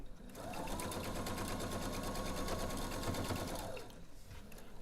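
A sewing machine stitches a seam in one continuous run of rapid, even mechanical chatter, close and clear, starting and stopping cleanly with no talk over it.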